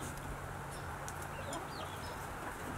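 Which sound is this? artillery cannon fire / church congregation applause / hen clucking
hen clucking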